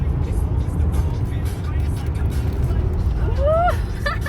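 Road traffic on a European highway while overtaking a green Ferrari, a steady loud rush of engine and tyre noise with a brief rising whine near the end, people talking over it.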